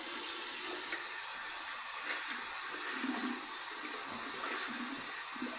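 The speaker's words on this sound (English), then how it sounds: "let me just rinse this out" Water runs steadily from a tap while shaving lather is rinsed off after a head shave, a continuous splashing hiss at moderate level with small surges, no talk over it.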